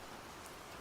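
Steady rain falls in a soft, even patter, a faint continuous hiss with no voices.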